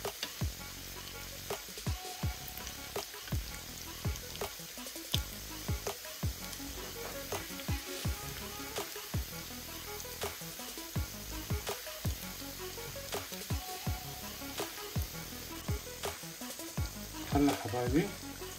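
Churros fry in hot oil, giving a steady close sizzle while they are stirred, with irregular scrapes and clicks scattered through and a slightly louder clatter near the end.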